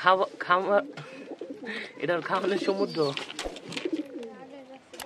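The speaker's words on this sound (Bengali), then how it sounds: "তো সবাই জানেন এটা একটা কবুতর" A pigeon in a Bangladeshi village coos close by in soft, repeated phrases, mixed with a person talking nearby.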